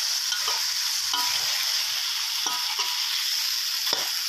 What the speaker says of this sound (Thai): ผัดให้น้ำตาลละลายนะครับ